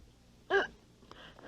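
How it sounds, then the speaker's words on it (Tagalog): A woman gives a single sharp, close hiccup caused by nervousness, followed by faint breathy sounds in a quiet room. "Ganito kasi ako pag nininervyos eh, sinisinok."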